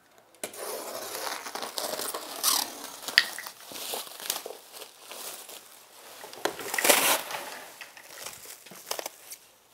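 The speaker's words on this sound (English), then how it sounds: "just go ahead and cut open the plastic and unwrap it" Plastic wrap being cut open and pulled off a packaged arcade system, giving continuous crinkling, crackling and tearing sounds with irregular bursts, close and moderately loud, with no talk.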